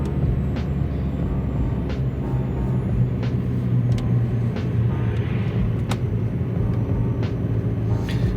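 An oncoming car passes on a night road, heard from inside a moving BMW E46 as a steady low engine and tyre rumble with a swelling whoosh, fairly loud and continuous, with no talking.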